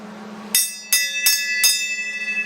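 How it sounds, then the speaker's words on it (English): A bell rings four times in a bright metallic chime, each strike close and loud with a ringing tone that lingers between hits. "So, if you would you ring the bell?"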